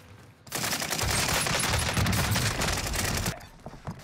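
Sustained burst of dense gunfire from a Streetsweeper shotgun in Call of Duty Warzone on Rebirth Island, loud and continuous for about three seconds before trailing off into quieter game noise.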